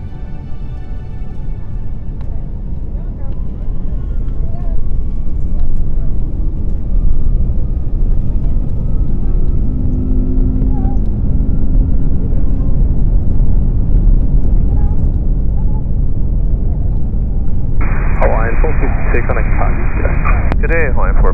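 A Hawaiian Airlines Airbus A330 accelerates down the runway on its takeoff roll, its engines giving a steady, loud, broadband roar with a slowly rising whine. Radio voices talk over it.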